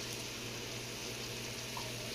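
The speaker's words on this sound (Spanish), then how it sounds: "agregarle un poco de agua" Water poured into a hot pan of caramelizing garlic for garlic shrimp produces a steady, dense sizzling hiss that holds at an even level throughout, close and continuous, with no talking.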